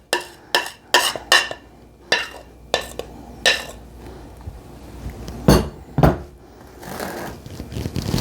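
A spoon scraping gingerbread batter out of a mixing bowl, a series of sharp clinking scrapes and taps at an uneven rhythm, close and fairly loud, with no talking.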